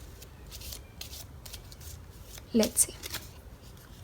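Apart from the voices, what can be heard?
tarot cards being shuffled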